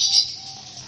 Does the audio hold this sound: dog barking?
no